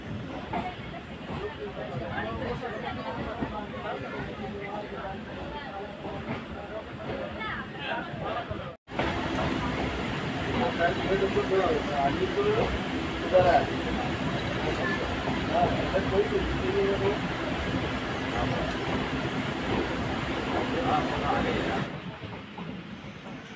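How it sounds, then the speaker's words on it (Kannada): A passenger train pulls out of Vyasanakere railway station with a steady rumble and hiss from inside the carriage, with faint chatter, continuing evenly before a slight drop near the end. "10:20ಕ್ಕೆ ಹೊರಟಿದೆ ನಮ್ಮ ಟ್ರೈನ್ ವ್ಯಾಸನಕೆರೆಯಿಂದ"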